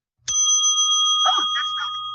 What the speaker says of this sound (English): Yeah, it's a little cowbell.